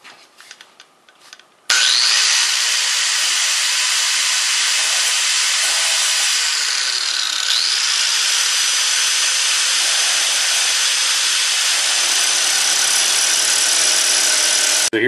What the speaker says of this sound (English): the bayonet lug and the sling swivel being cut off with an angle grinder